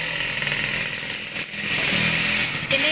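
A motorcycle engine running close by in a rural Indonesian village, a steady buzzing drone that holds at a fairly constant pitch and rises slightly in loudness toward the end.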